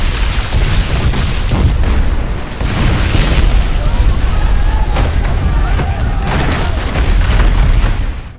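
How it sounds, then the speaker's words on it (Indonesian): A massive bomb explosion in a film scene from The Expendables 4 booms and keeps rumbling and roaring loudly for several seconds, with crackling debris and surges in the blast. "Barney langsung meledakkan bom yang dipasang sebelumnya."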